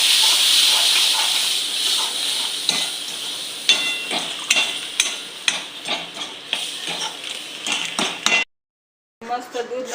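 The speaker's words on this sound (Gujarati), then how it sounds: "ચાલો જો હવે આપણે દૂધ નાખી દઈશું." Milk added to a hot pan while making coconut ladoo, with loud hissing and sizzling that settles into repeated scraping stir strokes against the pan, a short gap of silence near the end, and a voice talking in places.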